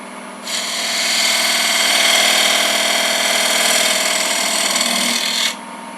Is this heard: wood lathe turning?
yes